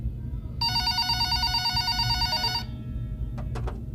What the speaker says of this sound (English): About an hour later, the phone on the counter rang.